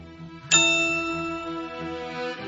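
A single bright notification ding strikes once and rings out with a long, shimmering metallic decay, clean and alone, with a soft second tone near the end.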